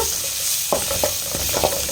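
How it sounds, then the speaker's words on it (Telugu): Green chillies and onion frying in hot oil for a tempering while potato fry is cooked, a steady sizzle with a few soft stirring clinks near the pan, no voices. "పచ్చిమిరపకాయ అయితే పచ్చి వాసన పోయే వరకు వేయించుకున్నామన్నమాట"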